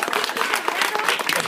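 An audience at a Christmas fair gives a musician a round of applause, a steady, loud wash of many hands clapping close by throughout.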